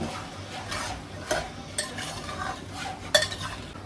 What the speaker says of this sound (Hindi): इसी पॉइंट पे मैं ग्रीन चिलीज भी डाल दूँगी। And I am going to stir.